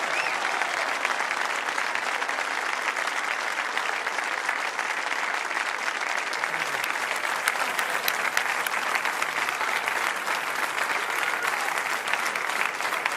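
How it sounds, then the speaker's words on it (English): Sustained, dense applause fills an arena after the finals of the 2023 World Cup of Pool, Philippines versus Germany, honouring the German runners-up. The clapping stays steady and loud throughout, with no break. "big applause for our runners-up, Josua and Moritz Neuhausen"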